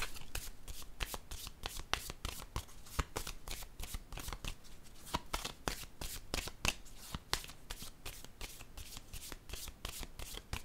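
Tarot cards being shuffled by hand, a quick run of crisp riffling flutters and snaps repeating in a fairly steady rhythm, close and clear, with no talking.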